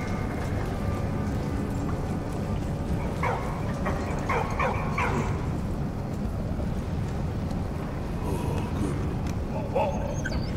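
A dog barks in Valiant Hearts: The Great War, with several short yips partly buried under dense, constant background noise and game sound, at moderate distance.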